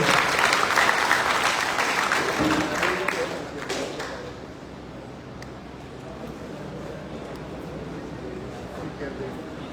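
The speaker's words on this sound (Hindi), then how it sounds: "एक ताली आप अपने लिए ही बजा लीजिए कि आप लोगों ने आज का वक्त निकाला।" An audience at a Hindi-language talk breaks into loud applause that swells for a few seconds, then tapers off to scattered claps and a murmuring room as a voice begins speaking.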